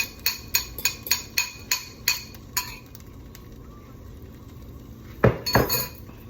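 Utensil stirring scrambled eggs in a pan: about ten quick regular metallic clinks in the first half, then a quieter stretch and a louder scraping clatter near the end.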